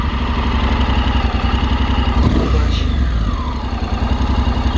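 Honda X-ADV DCT 750 scooter engine idling close by, a steady low throbbing rumble with a faint mechanical clatter and a brief swell partway through.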